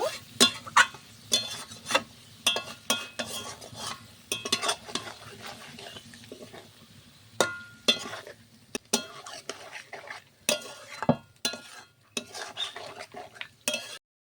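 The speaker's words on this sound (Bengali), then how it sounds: "মাংসটা এইভাবে কিছুক্ষণ কষিয়ে নেব।" Chicken pieces being stir-fried in a pan for butter chicken: a spoon scrapes and clanks against the metal in irregular bursts, close up, with soft sizzling between the strokes.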